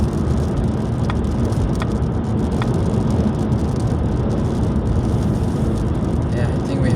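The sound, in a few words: car driving on highway with wind noise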